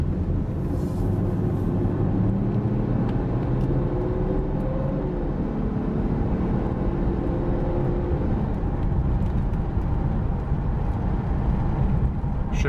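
A 1996 Mercedes SL600 engine idles and runs while still cold, a steady close rumble with slight rises in pitch that suggest gear changes; no talking.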